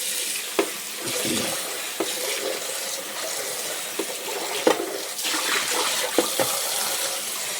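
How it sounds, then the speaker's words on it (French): Dirty water poured out of a washbasin after a skincare session, a steady splashing rush of water with small clinks and knocks against the basin, continuous for several seconds. "je vide mon eau qui était quand même bien sale"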